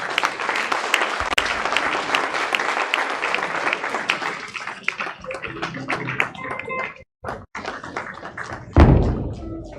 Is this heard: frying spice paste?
no